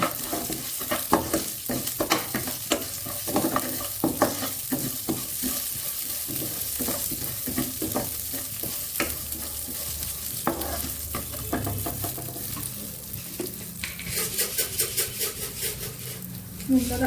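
Atta jira fries in ghee in a pan for a Bengali milk pudding, giving a continuous close sizzle layered with frequent scraping and stirring strokes against the pan, busier at the start and easing later.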